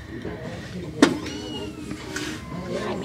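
A cat inside a Goodwill thrift store lets out one short, sharp meow, followed by a few fainter mews over the low hum of the store.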